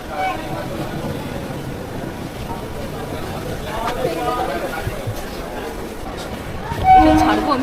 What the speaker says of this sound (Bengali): তো এসে গেছি, ট্রেন ঢুকছে এখন, জাস্ট ঢুকছে।